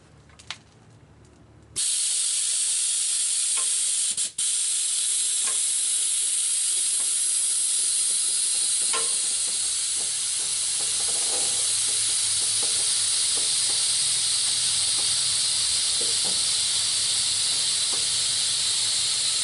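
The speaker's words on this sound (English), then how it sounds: "it's just air out of the bags that is still coming out" Steady, loud broadband hiss of air escaping from the air ride bags on a 2003 Duramax C4500 rollback, running continuously after a short quiet start with a brief interruption, a few faint clicks beneath.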